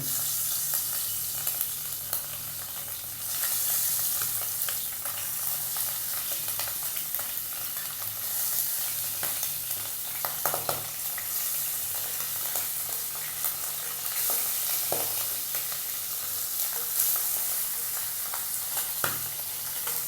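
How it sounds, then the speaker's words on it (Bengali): Tengra fish frying in hot oil, a steady bright sizzle lasting throughout with occasional louder spits and stirring scrapes, close and without talk. "ট্যাংরা মাছটা প্রথমে একটু ভেজে নেব"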